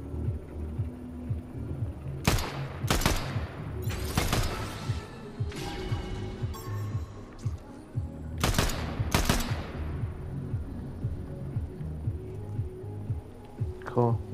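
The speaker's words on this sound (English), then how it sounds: "Shooting over this way, somewhere." Fortnite gunfire rings out in bursts: several loud, sharp shot clusters stand out among more distant fire over a steady background hum, with people talking over it throughout.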